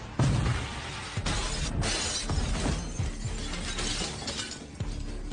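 All the windows of a haunted hotel shatter together, a loud, sustained crash of breaking glass with sharp bursts repeating throughout. No voices.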